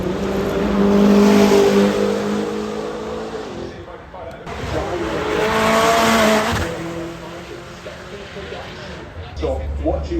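A supercar accelerates hard through Molecomb corner on the hillclimb at the Goodwood Festival of Speed, its engine roaring and rising through the gears in two loud surges, with a commentator talking over it throughout.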